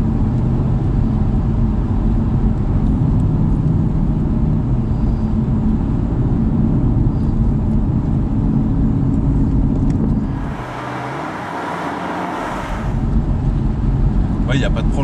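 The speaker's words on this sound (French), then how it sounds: "on écrase la pédale, elle tombe de rapport et puis C'est réglé" A car on a road-driving course accelerates hard with a loud, steady engine roar. The roar drops briefly as it downshifts, then surges back to full strength.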